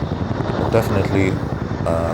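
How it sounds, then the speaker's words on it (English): A low, pulsing helicopter rotor drones overhead during King Charles' Trooping the Colour celebrations, beneath a person speaking close by, the thrum steady and moderately loud. "we can hear the rotor of helicopters above right now,"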